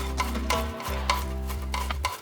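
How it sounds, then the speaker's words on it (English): Butter and Parmesan are stirred into a pan off the heat, a steady, close, wet scraping and swishing that runs continuously with rhythmic strokes, without talk. "We're gonna mix that in off the heat."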